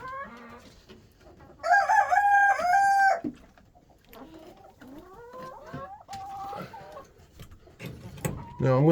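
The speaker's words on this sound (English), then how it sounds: "Tat's picking on the hen over there by the sounds of it" Hens in a coop cluck and squawk loudly, one bird shrieking in rising, agitated calls as it is pecked at by another, the noise close and broken into bursts with quieter clucking between.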